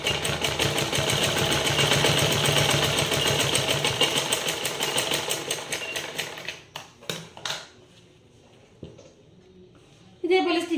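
A sewing machine stitches the side of a fabric pouch in a rapid, rhythmic clatter for several seconds, then slows into a few separate bursts and stops, with a voice speaking faintly at times.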